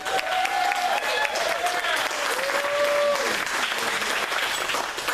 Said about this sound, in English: How about a round of applause for happy couple?